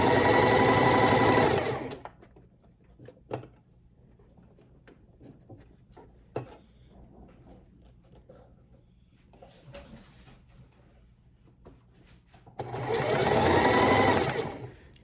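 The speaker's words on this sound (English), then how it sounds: "now I'm just gonna sew this right along the edge all the way down" A sewing machine runs in two steady, loud bursts while stitching along the edge of a layered ribbon tutu, separated by a quieter stretch of handling clicks and soft fabric rustles.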